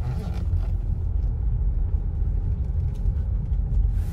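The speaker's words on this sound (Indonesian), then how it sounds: "Untuk road noise masih terdengar." Low, steady rumble of tyres and road inside a moving 2015 Honda CR-V 2.4 Prestige, muffled and continuous, with no voices.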